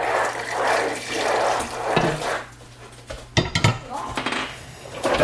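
Fatty beef boiling broth poured into a pot for braised short ribs, a liquid pour mixed with clanking pot and utensil sounds, ending in sharp metallic knocks; a voice talks over the first part.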